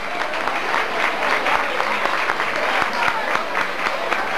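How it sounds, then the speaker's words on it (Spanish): Community-centre audience at a trophy ceremony clapping, a sustained, even roar of many hands with scattered sharper claps, fairly close and continuous throughout. "Un aplauso."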